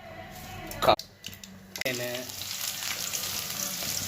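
Green chillies and turmeric frying in a pan for a home-style tomato curry, with a steady sizzle and a couple of sharp clatters near the start. Stirring sounds run through it.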